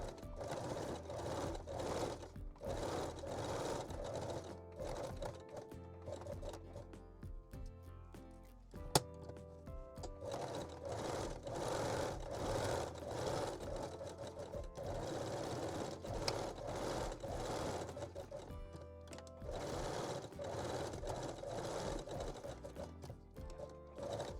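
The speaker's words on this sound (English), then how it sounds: "stitch them together. I am using zigzag in the neckline and long straight stitch for the rest" Domestic sewing machine stitching a lace bralette, alternating zigzag and long straight stitches, running in steady whirring bursts with brief pauses, close and continuous throughout.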